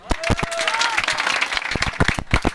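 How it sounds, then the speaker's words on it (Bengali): Crowd clapping at Gabtoli cattle market during the Qurbani season, with sharp, distinct claps in an uneven rhythm close by and voices chattering underneath. "একটু তালি হয়ে যাক।"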